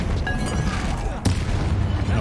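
Confringo spell explosion in the game Hogwarts Legacy, during combat: a sharp, loud blast strikes close by about halfway through, over a steady rumble of game noise, with a brief whistling cast before it.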